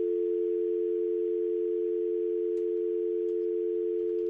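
A steady telephone dial tone in a radio studio, one continuous unbroken hum held at even loudness throughout, with faint clicks and no voices.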